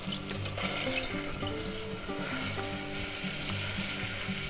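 About three pats of butter melt in a soup pot with garlic, giving a steady close sizzle and crackle with light stirring scrapes throughout.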